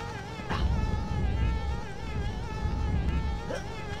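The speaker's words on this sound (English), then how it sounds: "Come on, bees." Continuous buzzing of bees in the video game Conker: Bad Fur Day, a wavering insect drone with steady tonal layers over low background music, moderately loud throughout.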